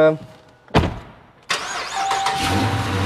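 A push-start car engine cranks briefly, catches with a sharp burst, and then settles into a steady idle close by.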